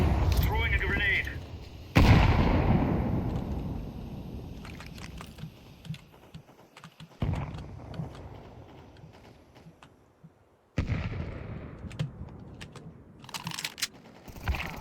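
A grenade blast booms loudly in a first-person shooter, followed by scattered gunshots and sharp impacts, with later bangs cutting in abruptly and a voice speaking briefly over the mix.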